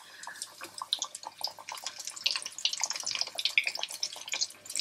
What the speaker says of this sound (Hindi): तेल अच्छे से गर्म कर लेना है और ये जो हमारे विंग्स हैं हम इसमें डालेंगे